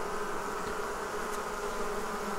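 Honey bees buzzing at a five-frame deep hive box during swarm hiving, a steady, fairly quiet humming drone of many insects close by, continuous throughout with no voices.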